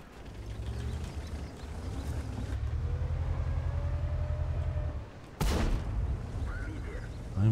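Rapid cannon fire from a K-91 Tier X medium tank in World of Tanks, heard as a steady low rumbling run of shots that breaks off with one sharp, loud crack near the end.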